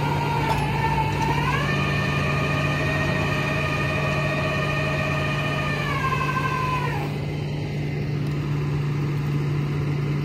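A tow truck pulls a car onto its bed: a whining mechanical drone rises in pitch, holds steady for about five seconds, then winds down over a constant low engine hum.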